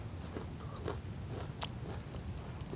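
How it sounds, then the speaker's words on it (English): Close-up chewing comes through as a few crisp bites and crunchy mouth noises scattered over soft background noise, with one sharp crunch standing out. "Well, while you're chewing"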